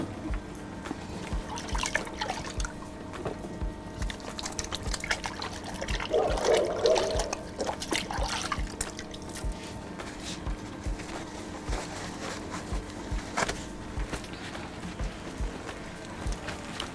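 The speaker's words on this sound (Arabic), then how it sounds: "وهغسل ايدي." Hands are washed under a running kitchen tap, a continuous trickle and splash of water at close range with small shifts in the flow and faint clinks in the background.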